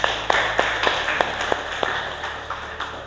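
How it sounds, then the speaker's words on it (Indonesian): Children clapping their hands, about ten separate claps in a loose, uneven rhythm over a few seconds, heard close and moderately loud. "Ya, beri tepuk tangan anak-anak."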